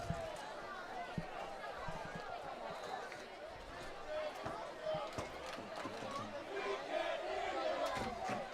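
Distant crowd noise from the stands at a high school varsity football game, a low roar of cheering and chatter running steadily under a play-by-play announcer's voice.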